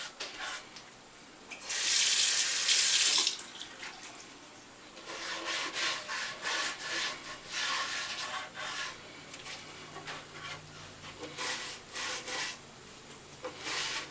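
Wet rubbing and splashing on a sanded wooden mandolin, starting with a loud burst of water, then softer intermittent swipes and drips nearby.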